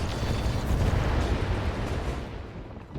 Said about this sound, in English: we're going to fire on this medium reinforced building.